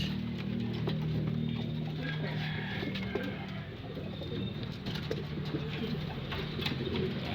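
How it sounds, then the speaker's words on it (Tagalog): Racing pigeons cooing at their loft in San Ildefonso, Bulacan, soft low coos under a steady background hum, fairly close and moderate, no talk. "kompleto na ibon natin lahat"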